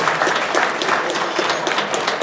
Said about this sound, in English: Let's give Chase a big round of applause,